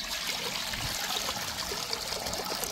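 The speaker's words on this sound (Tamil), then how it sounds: "அவிக்கிறதுக்கு தண்ணி சேர்த்துக்கிறோம்னா" Water poured into a small pot (uruli) for boiling: a steady trickling, splashing stream, close and continuous for a few seconds, with no one speaking.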